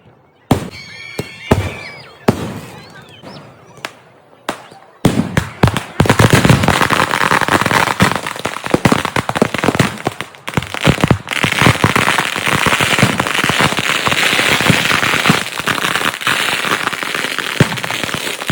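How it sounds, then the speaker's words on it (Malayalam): A few sharp scattered pops, then a dense, loud barrage of fireworks bursting and crackling continuously, with occasional heavier booms, at a Kerala temple festival fireworks display. "അങ്ങനെ നമ്മുടെ വെടിക്കെട്ട് സ്റ്റാർട്ട് ചെയ്തു"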